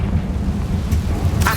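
In Hogwarts Legacy, a Confringo spell lands as a deep, rumbling blast with a burst of crackle near its end, loud and close over a short moment.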